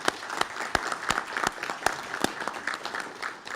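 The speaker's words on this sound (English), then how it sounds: "let's give him a round of applause" Applause for a newly appointed permanent police chief at a Rocky Mount gathering honoring firefighters and police officers, a steady round of clapping from a modest crowd with sharp individual claps standing out close by.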